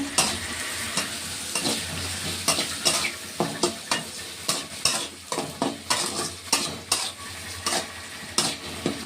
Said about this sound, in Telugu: కాస్త సాల్ట్ వేసి వేగించుకుంటే త్వరగా వేగుతాయి ఆనియన్స్